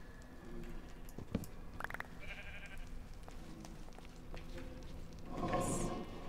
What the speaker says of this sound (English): Yeah, I'm hearing a sheep.